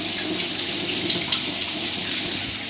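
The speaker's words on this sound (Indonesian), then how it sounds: "Shower pun juga deras." Water from a shower pours out in a strong, constant hiss, loud and close, with no break and no voices.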